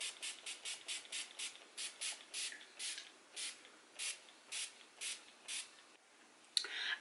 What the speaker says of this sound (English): We are going to spritz our face with the matte finish setting spray